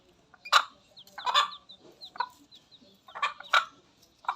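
Two mother hens cluck in sharp, scattered bursts as they fight over chicks, the calls close and clear against a quiet background.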